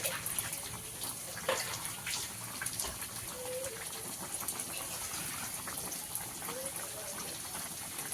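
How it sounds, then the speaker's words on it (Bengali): Water poured into a pan of spiced fig curry, a steady watery gush with soft splashing throughout, moderately loud with no voices. "একটু মশলা ধরা জল দিয়ে দিলাম"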